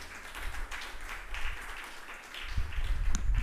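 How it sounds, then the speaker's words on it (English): A crowd at a university investigative journalism prize ceremony applauds the journalists, with uneven clapping that swells and dips, then grows louder with sharper individual claps near the end. "So please, again, give the journalists a round of applause."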